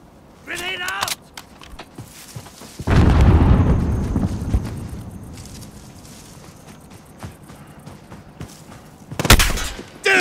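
Grenade blast and gunfire in the Call of Duty Modern Warfare video game: sharp shots early, a loud booming explosion that rolls off over several seconds, then another burst of fire near the end, with voices calling out.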